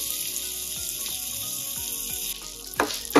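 Butter and olive oil heat in a pan with a steady, bright sizzle throughout, joined near the end by a couple of louder clinks and scrapes of a utensil against the cookware.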